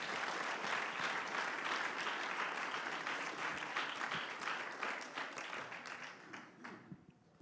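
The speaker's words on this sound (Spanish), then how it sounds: "Dale un aplauso grande al Señor." A church congregation breaks into a long, full round of applause, many hands clapping steadily before it gradually fades out.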